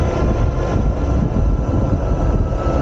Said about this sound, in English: now we're doing a hill climb test using only the throttle, and we're using dual motors because it's a dual motor bike